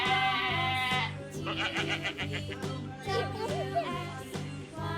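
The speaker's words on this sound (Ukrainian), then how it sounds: "Ой, як вона кричить." A sheep bleats loudly and repeatedly, close by, while people talk and laugh around it at an amusement park in Kyiv.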